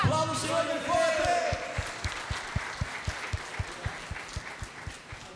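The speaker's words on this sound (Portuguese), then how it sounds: "Aplauda o Senhor bem forte." A church congregation claps during a live worship service, starting amid loud voices and singing, then settling into a steady, rhythmic unison clap that gradually quiets.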